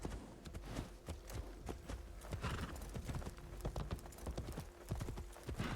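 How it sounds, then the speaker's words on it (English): Horse hooves in the video game Assassin's Creed Shadows clip-clop in a steady quick rhythm with an occasional whinny, close and fairly loud over a faint game backdrop, with a voice briefly present. "Get on the horse."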